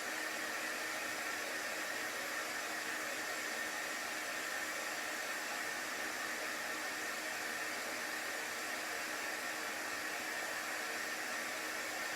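A hair dryer blows on chalk paint on a craft sign, giving a steady, loud, even whoosh that does not change for the whole stretch, with no talking.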